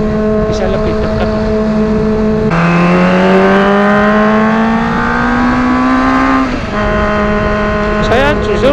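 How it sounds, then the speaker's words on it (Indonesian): A Kawasaki ZX25R four-cylinder motorcycle fitted with an Ayam Geprek aftermarket exhaust revs loud and close, its smooth high-pitched drone climbing steadily before dropping off, then picking up again. "Suaranya itu ngong banget, kayak mobil gitu, kayak ya memang motor 4 silinder ya"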